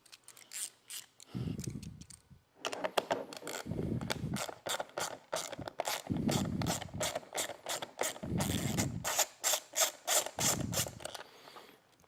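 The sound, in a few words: tool removing 8mm nut from motorcycle reflector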